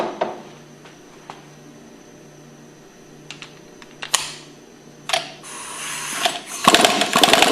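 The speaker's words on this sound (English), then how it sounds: "We'll go ahead and remove it with a 5/8 socket." A 5/8 socket removes the impeller from a Hypro centrifugal pump, heard as scattered light metallic clicks and ticks up close, ending in a burst of louder rattling and scraping.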